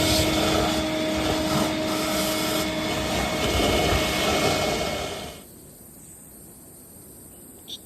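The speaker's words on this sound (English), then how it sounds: "The pipe on the hoover is just perfect. It fits right in like that." Hoover vacuum cleaner with its pipe fitted into a truck axle housing, a steady loud broadband whoosh with a fixed whine that cuts off abruptly near the end, leaving a quiet background.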